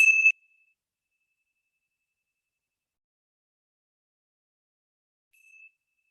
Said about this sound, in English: let's begin our time together with the ringing of the bell.